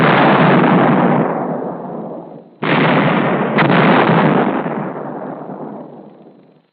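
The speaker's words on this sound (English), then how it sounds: "Firepower is the 105 howitzer," 105 howitzer artillery firing, two loud booming blasts, each with a sudden onset and a long rumbling decay, the second following the first about two and a half seconds later.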